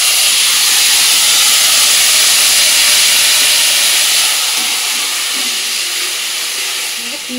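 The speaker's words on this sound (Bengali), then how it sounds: "পেঁয়াজ রসুন সব ভাজা ভাজা হয়ে গেছে" Chopped onion, garlic, green chili, coriander leaves and white cumin fry in a little oil in a wok, giving a steady, close, loud sizzling hiss that runs unbroken and eases slightly toward the end.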